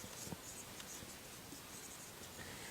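Pen or marker scratching out an address during an online class, soft continuous rubbing strokes with a few light taps, very faint and close against a quiet room hiss.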